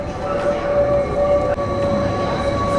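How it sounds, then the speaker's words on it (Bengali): A Jungfrau railway train near the Top of Europe at Jungfraujoch, Switzerland, pulls in with a steady loud rumble and a sustained high tonal whine, one brief clank midway. "টপ অফ ইউরোপে এই যে ট্রেন অলরেডি চলে এসেছে"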